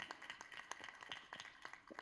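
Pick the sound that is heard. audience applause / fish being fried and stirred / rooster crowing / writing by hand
audience applause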